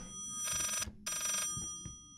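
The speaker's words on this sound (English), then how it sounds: "It's ringing." A reversed telephone ring in the horror video game Layers of Fear sounds as two long, bright ringing bursts separated by a short gap. It plays fairly quietly over a low ambient rumble.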